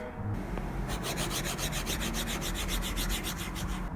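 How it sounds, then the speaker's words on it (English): A stylus scratches across a matte screen protector in quick, even back-and-forth strokes, a dry rasping sound close up with no voices. "I'm also using a matte screen protector, and you can hear the difference here."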